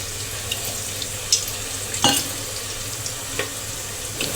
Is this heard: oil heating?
yes